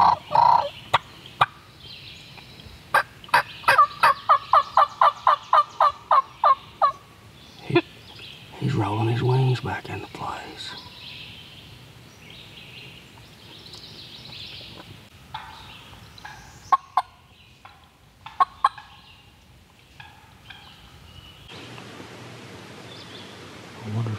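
A wild turkey gobbler gobbling at sunrise on an Easter morning in North Carolina, with several rapid rattling gobbles standing out over quiet woodland ambience, plus scattered sharp knocks and quiet talk.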